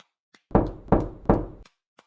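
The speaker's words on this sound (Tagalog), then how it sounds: "Katok pa ng katok, sabing papunta na." Three loud, close knocks on a door in a cartoon scene, each one a sharp thud with a short ring after it, spaced evenly about a third of a second apart, followed by quiet.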